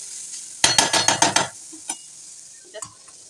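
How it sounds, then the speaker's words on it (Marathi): Grated carrot sautéed in ghee for carrot halwa, stirred in a pan: a quick burst of about six scraping, sizzling strokes, then a few faint clinks and shuffles, close and alone without talk. "मस्त त्याला असं तुपावर आपण चांगलं परतून घेतले"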